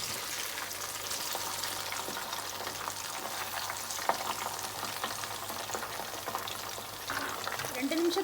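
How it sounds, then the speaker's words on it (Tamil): Chicken drumsticks sizzle in a pan with a continuous, even frying hiss and light crackles close up, a faint low hum beneath and a few soft clinks from the pan. "இப்போ அந்த சிக்கன் 2 நிமிஷம் நல்லா ஃப்ரை ஆகட்டும்."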